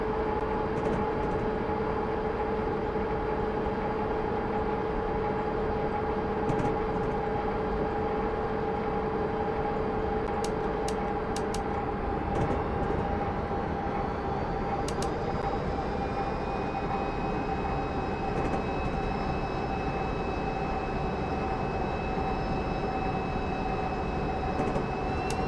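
A freight train in Train Simulator 2021 rolls along with a steady, unbroken rumble and sustained tonal hums, with no talking.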